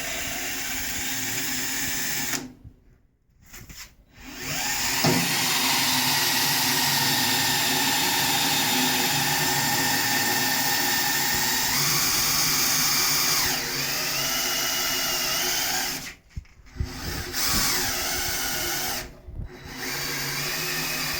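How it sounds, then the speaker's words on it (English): A power drill bores a pilot hole near the center of the piece during an EverClean installation, its loud steady whine holding for long stretches with brief pauses and a change in pitch partway through. "And then I'm going to take my drill, look for what's approximately the center"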